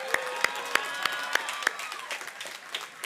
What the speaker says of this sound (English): Let's give Dr. Day a round of applause for that voice.